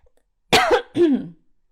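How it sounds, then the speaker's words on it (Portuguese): Two quick, rough throat-clearing coughs, close and fairly loud, standing alone in otherwise quiet surroundings. "estou com pigarro hoje de novo"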